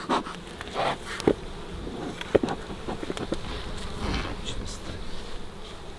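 Bees buzzing around a full beehive as it is opened, a fairly faint, wavering drone mixed with a few knocks and handling noises and some wind rumble, no clear talking.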